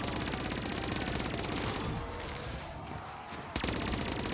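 Rapid suppressed gunfire from a silenced weapon in a zombie video game, a dense continuous burst of muffled shots that thins briefly before a sharp hit sound and resumed firing.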